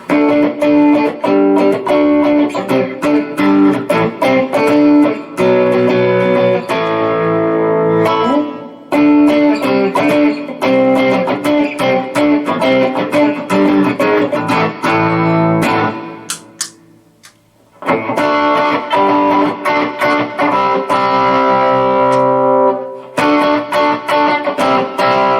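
An Epiphone Les Paul Standard Plus Top Pro electric guitar played through heavy distortion, loud sustained chords and riffs that cut out briefly around the middle before resuming just as loud.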